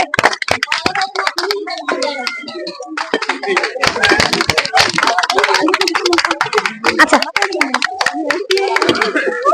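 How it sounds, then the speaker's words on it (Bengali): Several people clap hands in a lively indoor family game, quick uneven claps close by, mixed with children's and adults' chatter and laughter throughout. "সবাই হাততালি দেবে"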